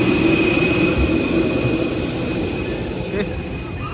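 The huge turbine engines of a large passenger jet hum and whine steadily during boarding for a Hyderabad to Chennai flight, a constant loud drone with a high tonal whine throughout.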